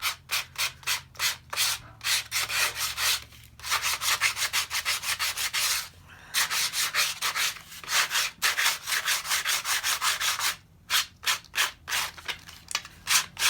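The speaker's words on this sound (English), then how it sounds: "we're going to take some sandpaper and we're going to go along the edges and sand off the excess." Sandpaper rubs along the edges of a paper file folder in quick, repeated back-and-forth strokes, loud and close, broken by a few short pauses.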